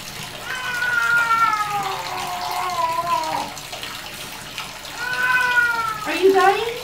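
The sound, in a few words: wet cat meowing during bath, water pouring off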